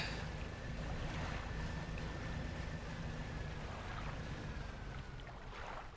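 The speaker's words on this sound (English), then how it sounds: "I've never been able to, like, clearly hear our engine noise before. It just sounds like a little toy." A small boat engine in the video game DREDGE drones steadily and fairly loud under wind-like noise, with a thin, toy-like whine holding throughout and no talk.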